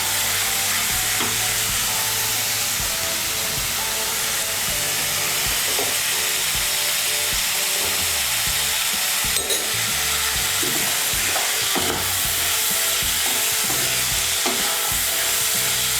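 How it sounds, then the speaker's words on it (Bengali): Spiced chickpeas for doi chola sizzle steadily in a hot pan while roasted spice mix is stirred through them, with occasional scrapes and clicks of the spoon over a constant frying hiss. "ভাজা মশলাটাকে ভালো করে মিশিয়ে নেব"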